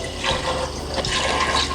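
Water gushes and splashes steadily into a cooking pot holding beef skin being softened, a close, continuous pour with bubbling turbulence.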